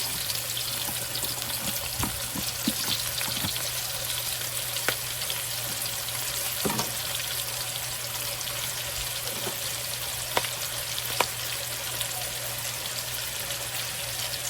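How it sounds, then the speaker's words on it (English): Chopped onion and minced garlic sizzle steadily in hot bacon fat, with a constant broadband crackle and a few soft clicks and stirs along the way, no voices. "now we are going to take a little bit of onion and 2 tablespoons of garlic, and we're going to drop down in our bacon fat."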